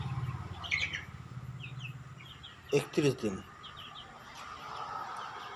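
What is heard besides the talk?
Kadaknath-colored chickens chirping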